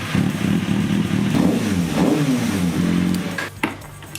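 A Kawasaki ZX-6R engine idles and warms up close by, a loud, steady, rough mid-pitched drone with slight rising and falling revs and a clatter near the end.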